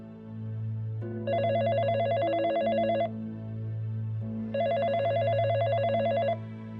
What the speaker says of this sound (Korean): 그 소리에 놀라서 잠이 깬 덕기가 전화를 받았는데